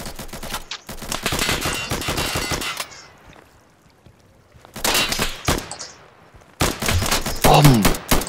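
Bursts of automatic gunfire in the tactical shooter Insurgency, loud rapid volleys in three clusters separated by quieter gaps, with faint game ambience between and a brief voice near the end.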